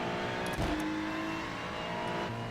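A race car closing from behind during an IMSA Open race at Suzuka in iRacing, heard as a constant engine drone from the cockpit with a brief rising whir as the faster car draws near.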